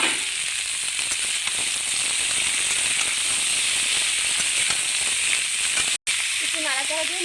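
Boiled vegetables hit a hot pan already holding lightly fried onion and garlic, giving a loud, steady sizzle and hiss that runs without a break, with one momentary dropout near the end.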